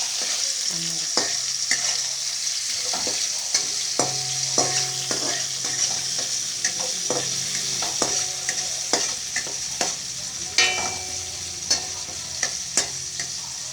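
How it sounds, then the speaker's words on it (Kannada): Chopped tomato stir-fried in a pan, a continuous close sizzle broken by repeated scraping and tapping knocks of a spatula against the pan, irregular in rhythm and fairly loud, with no talking. "ಹಾಗೆ ಸ್ವಲ್ಪ ಫ್ರೈ ಮಾಡ್ಕೊಳ್ಳೋಣ."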